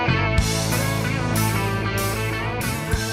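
Theme song of Friends: a loud, full band passage with steady harmonic instruments, bass and sharp drum hits, playing continuously without vocals audible.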